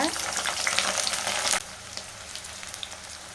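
Chopped onions hit hot sesame oil with a loud crackling sizzle that drops abruptly after about a second and a half, settling into a quieter bubbling fry with scattered pops.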